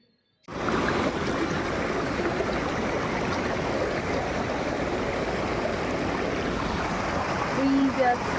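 Stream water pours down from higher ground on a forest trek in Rishihat, North Bengal, a steady, full rushing wash that runs the whole time at close range.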